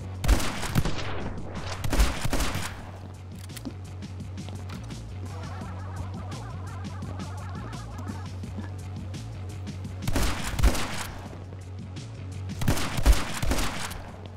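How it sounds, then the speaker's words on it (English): Gunfire in the action game My Friend Pedro, with rapid bursts of shotgun and automatic shots clustered at the start and again near the end, separated by a quieter stretch of game noise. "Not sure why they can't hear the gunshots"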